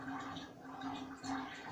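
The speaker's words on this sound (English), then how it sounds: "Gonna drain the water now." Water drains from a trombone during cleaning, making a faint, continuous gurgling trickle with no talk over it.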